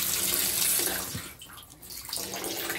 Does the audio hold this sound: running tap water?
yes